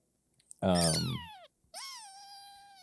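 A person imitates a cat with two drawn-out meows, the first loud and strained, the second smoother and sliding down in pitch.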